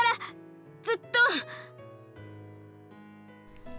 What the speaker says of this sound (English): She's panting and yelling so loud it's completely out of character for her.